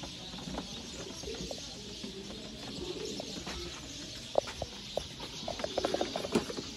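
Pigeons cooing around a rooftop loft of Sialkoti and Ferozpuri breeder pairs, a steady low cooing chorus with a few brighter chirps and small knocks toward the end.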